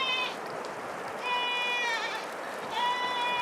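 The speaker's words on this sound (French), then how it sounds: "on vient de surprendre un troupeau de chèvres" A herd of goats in the mountains of Pakistan bleats in three wavering, drawn-out calls spaced a second or so apart, heard over a steady rushing background noise.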